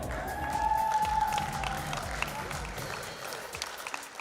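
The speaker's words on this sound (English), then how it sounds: "And we keep the applause going for Eulalie Downer, artisan craft trader, also celebrating 54 years" Audience applause at a live awards ceremony honouring long-serving artisan craft traders, a steady crowd clapping with some cheering, a faint sustained tone and distant voices underneath.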